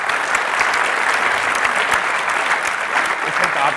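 An audience applauding at a Berlin Buzzwords conference closing session, a dense, steady clatter of many hands clapping for several seconds, fairly close and loud.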